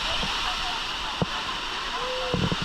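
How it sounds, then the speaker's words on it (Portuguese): A waterfall roars in a constant, full rush while a family bathes beneath it, with faint voices and a few small splashes over the steady water. "na queda da cachoeira"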